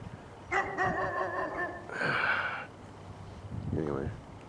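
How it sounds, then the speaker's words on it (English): A dog barks a few times outdoors near a house garden, the clipped woofs coming at middle distance over steady background noise, with a later short yelping call. "There's that dog."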